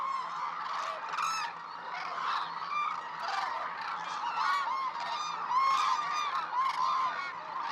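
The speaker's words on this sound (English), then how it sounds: "the hooded crane, makes up the majority of birds here." A flock of wintering cranes, mostly hooded cranes, calls at a roosting reserve on the Izumi Plain in Kagoshima, Japan, with many overlapping honking cries blending into a dense, continuous chorus.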